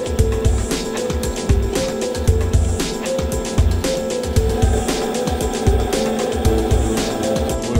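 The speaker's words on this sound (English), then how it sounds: "We will let the motor run like this for a few hours to make sure everything in the system is working properly" A servo motor runs on a Cyberline 1000A drive executing a test profile, giving a steady loud mechanical hum with repeating rhythmic surges and clunks throughout, no voices.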